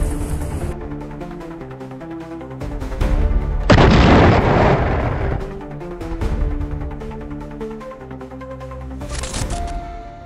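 An Iskander-M tactical ballistic missile launching in a field setting, a loud roaring blast that swells and fades over about two seconds, standing out above a sustained musical bed, with a sharper burst near the end.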